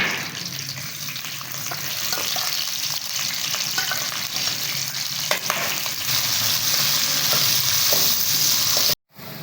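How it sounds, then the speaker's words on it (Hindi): Onions sizzle and fry in oil for aloo tahari, a steady close hiss with spoon scrapes as they are stirred, ending in a brief cut to silence. "अब इसमें प्याज ऐड कर लेंगे।"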